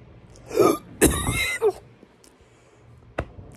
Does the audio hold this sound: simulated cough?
yes